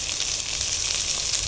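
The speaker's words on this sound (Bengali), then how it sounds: "লবণ দিয়ে তেল দিয়ে ভেজে নেব" Pona fish frying in mustard oil with salt in a pan, a dense steady crackling sizzle held close and loud throughout, with no talk.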